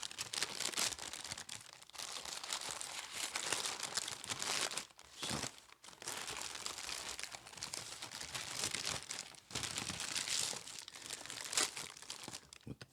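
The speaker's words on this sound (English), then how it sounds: "So I'm going to go ahead and unwrap here." A Boar's Head maple turkey sub is unwrapped from its paper, giving continuous close crinkling and rustling with brief tearing and short pauses, and no talking.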